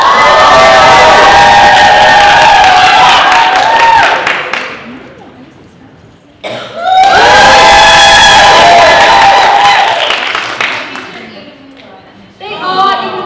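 Convention audience at a steampunk convention's tea dueling finals cheering and whooping in two loud bursts of shouts, screams and clapping, separated by a brief lull, with a third swell starting at the end.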